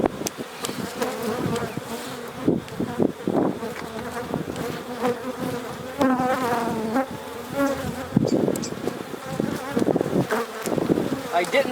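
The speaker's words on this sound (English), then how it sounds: "Since there's bees pretty much all over this thing," Honey bees buzz around an open hive during a spring inspection, their close, wavering hum rising and falling with passing insects alongside scattered handling knocks.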